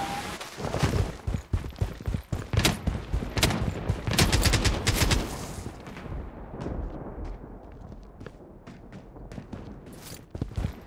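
Rapid bursts of gunfire and heavy impacts from a video game, loud and dense at first, then thinning into sparser sharp shots and clicks.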